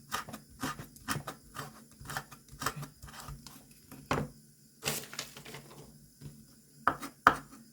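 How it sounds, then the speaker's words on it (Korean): A knife finely chops Vietnamese chili peppers on a board, giving crisp, irregular taps in quick clusters with short pauses, close and fairly quiet. "베트남 고추, 월남 고추라고 하는데 이거 아주 잘게 썰어줍니다"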